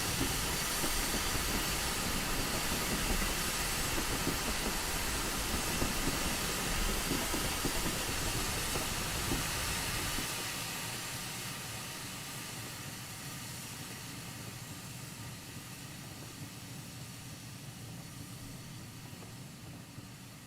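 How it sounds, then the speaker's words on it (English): A GWR 8000 steam locomotive in Train Simulator 2021 pulls away with a broad steady hiss and rumble that drops to a quieter, thinner wash halfway through as the train recedes. "Train heads off into the distance."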